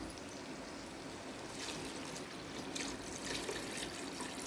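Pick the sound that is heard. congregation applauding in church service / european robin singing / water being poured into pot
water being poured into pot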